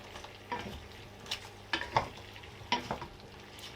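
Onions, bay leaves and thyme sprigs being stirred in a frying pan, a soft sizzle under a few scraping stirs and light utensil knocks, close and fairly quiet.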